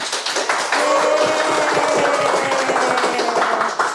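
A talk-show audience applauds a guest: a dense, continuous patter of many hands clapping, close and fairly loud, with a steady tone running faintly beneath it.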